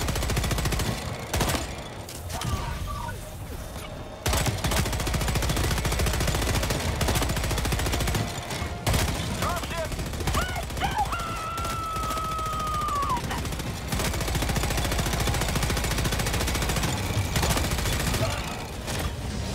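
A mounted turret machine gun fires in long, sustained bursts during a battle against Automatons in Helldivers 2, loud and almost continuous. Explosions and other combat noise sit under it, and someone talks over the gunfire.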